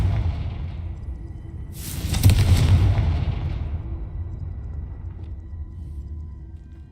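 Confringo blasting spell in Hogwarts Legacy, a sudden whooshing blast about two seconds in that swells into a booming explosion and then fades into a low rumble, with no voices.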